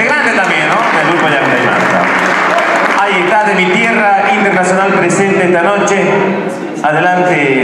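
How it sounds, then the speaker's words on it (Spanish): A concert audience applauds during a 20th-anniversary show, dense crowd clapping mixed with loud amplified voices and background music, continuous and close. "Fuerte los aplausos para él, por favor"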